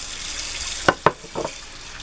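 Short bursts of water from a running tap as hands are rinsed after scrubbing a sponge with laundry detergent: two quick close splashes, then a softer trickle, with no talk.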